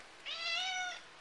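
A single drawn-out cat meow, clear and close, lasting under a second in a quiet room.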